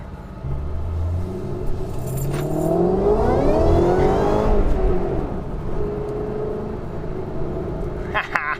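A 2011 Shelby GT500 engine rumbles and revs up smoothly while cruising, its pitch rising then easing off, heard from inside the car.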